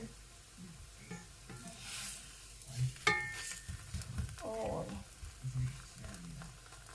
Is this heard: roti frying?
yes